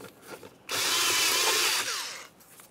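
An 8mm socket tool loosens the air inlet clamp on the air filter housing of a 2003-2011 Mercury Grand Marquis, a loud steady whirring burst of a little over a second, close by, with quiet shop sounds before and after.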